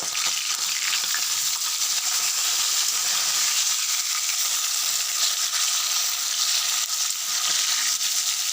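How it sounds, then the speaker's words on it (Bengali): Fish fry in a pan of oil with a loud, continuous hiss and crackle that holds steady and close throughout, without pause. "আর এই দেখো মাছগুলো ভাজা হচ্ছে"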